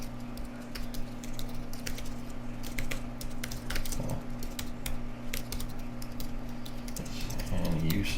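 Someone types a paragraph on a computer keyboard, a steady patter of fairly quiet key clicks over a low constant hum, with no voices.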